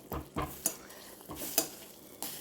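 Butter sizzling in a pan while making a carrot sweet, a soft frying hiss broken by several scraping stirs of a utensil, close up with no voices.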